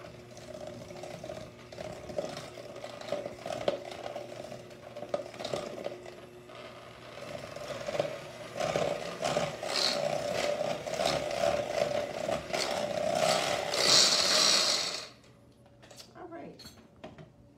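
Spoon or whisk stirring a dessert mixture with vanilla added in a bowl, a busy clinking and scraping that grows louder and faster before stopping abruptly, with someone speaking briefly around it.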